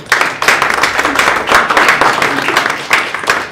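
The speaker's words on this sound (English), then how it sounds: "this is a good point to give applause to learners" Audience at a digital lab grand opening clapping for the learners, a lively, uneven burst of many hands, close and loud, swelling and dipping over a few seconds with no one speaking.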